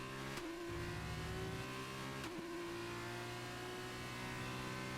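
A Formula 2 race car in a racing video game lapping Silverstone holds a loud, steady engine whine that steps through gear changes and rises and falls under acceleration, with no talk.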